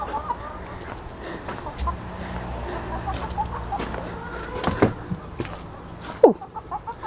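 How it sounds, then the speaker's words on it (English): Backyard chickens cluck and murmur on and off near an orchard's pear and plum trees, with a few louder squawks rising over the steady low clucking and one sharp call near the end. "Oh, chicken."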